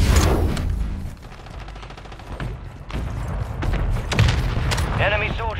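A Semtex grenade explosion in a Call of Duty match lands amid scattered gunfire and thumps, loud bursts mixed with ongoing game noise while players talk over it.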